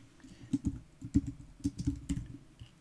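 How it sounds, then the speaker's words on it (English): A name is typed on a computer keyboard with irregular bursts of crisp key clicks, close and fairly quiet, with short pauses between groups of presses and no talking. "keep typing in a different name"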